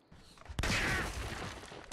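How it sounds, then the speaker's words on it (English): Fireworks go off in The Secret of Monkey Island: after a faint lead-in, a single loud burst erupts and trails into a crackling, fizzing wash that fades over about a second. "Why are there fireworks going off?"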